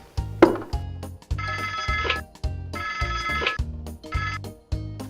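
A telephone bell rings in repeated bursts with short gaps between them, loud and close, with no voices over it.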